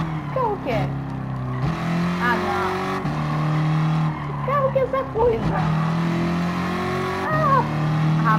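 A car engine revs in a racing video game, apparently a 1965 Sports 800, with steady engine drone and rising, shifting pitch over ongoing talk throughout.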